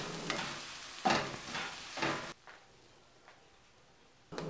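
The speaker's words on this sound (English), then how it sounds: "In same skillet, cook onion and garlic until onion becomes transparent" Onion and garlic cooking in a skillet, with stirring scrapes and a sizzle that comes in bursts over the first half, then drops to a faint hiss broken by a few soft taps.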